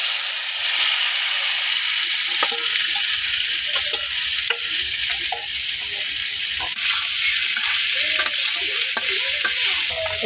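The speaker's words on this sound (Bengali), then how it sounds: "আলুটি এখন দিয়ে নিতেছে, আলুটি আগে ভাজিয়ে নিব" Potatoes fry in a pan with panch phoron, giving a constant bright sizzle with scattered stirring scrapes and clinks of a utensil against the pan, close and steady.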